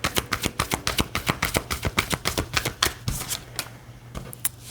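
Tarot cards are pulled and flicked from a deck, a rapid series of close, crisp snapping riffles over a faint steady hum, slowing and thinning out toward the end.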